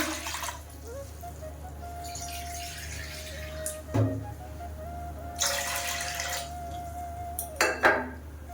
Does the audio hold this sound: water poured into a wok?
yes